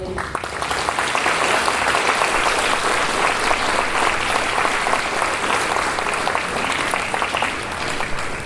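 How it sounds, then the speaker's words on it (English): Sustained applause for teachers at a ceremony honoring newly tenured staff, a dense steady crowd clapping that holds strong and even throughout with a faint voice briefly underneath. "I think we should join in a round of applause saying thank you for them"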